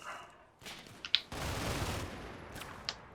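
Machine gun fire in the Combat Mission: Battle for Normandy war game, heard as sustained bursts of rapid gunfire at moderate loudness with short gaps between volleys and no talking.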